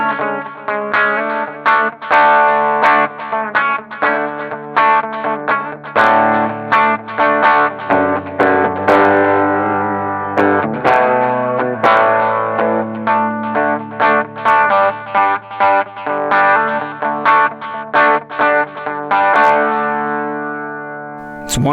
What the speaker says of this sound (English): the Julia kind of has a particular like wave to it that even the wow and flutter doesn't really give me